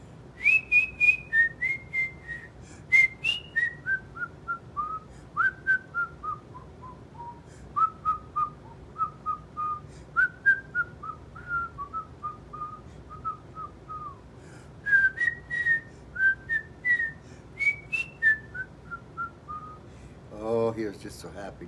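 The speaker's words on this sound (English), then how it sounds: "he learned how to whistle" A man whistles a wandering, cheerful tune alone, in a steady run of short melodic phrases with brief pauses between them. The whistling is clear and fairly close, with no talking over it.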